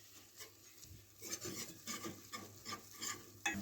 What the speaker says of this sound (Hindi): और इसको मिक्स करेंगे अच्छी तरह से इसमें मक्खन में।